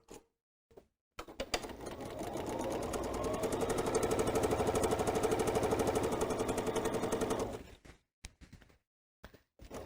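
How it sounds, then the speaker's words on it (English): A sewing machine stitching a 1/4 inch seam on fabric folded right sides together, a steady fast mechanical whirring run of about seven seconds, close and loud, with short stops and clicks before and after. "I'm going to fold it right sides together, and we're going to sew that 1/4 inch."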